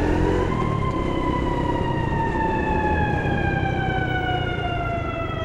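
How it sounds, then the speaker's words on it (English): A loud fire engine siren wails, sweeping steadily downward in pitch, continuous and close, over rumbling traffic noise in Lower Manhattan, New York City. "You see a real fire engine."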